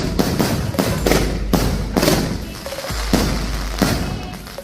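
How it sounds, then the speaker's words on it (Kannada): Locally made firecrackers go off in a rapid, loud series of sharp cracks and booms at the Shree Pattaladhamma Devi temple fair in Mandya, Karnataka, with bursts overlapping and echoing through the crowd. "ಇಲ್ಲೇ ತಯಾರಾಗೋ ಪಟಾಕಿಗಳ ಸೌಂಡ್ ಬಲು ಜೋರು."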